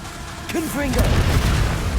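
A Confringo fire-blast spell in Hogwarts Legacy erupts as a short booming burst that rolls into a rumbling tail, close and loud, with a voice calling out just before it.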